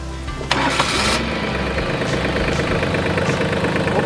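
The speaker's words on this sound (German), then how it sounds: "Traktor anlassen." A Kubota tractor engine cranks and catches about half a second in, then settles into a steady, loud diesel idle that runs to the end with no talking.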